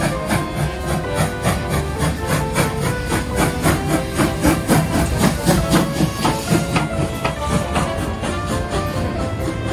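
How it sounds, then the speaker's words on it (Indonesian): A steam locomotive working hard, with a rapid, regular run of loud chuffs and hissing steam bursts that build and carry on steadily. No voices are heard. "bahkan bunyi uap mesin lokomotif yang khas itu telah menjadi ikon tersendiri"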